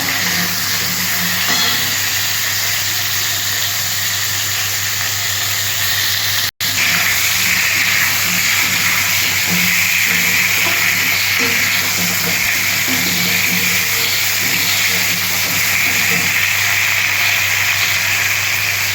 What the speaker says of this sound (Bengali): আলুটা প্রায় ভাজা হয়ে গেছে, এবার বেগুনটা আমি দিয়ে দিচ্ছি।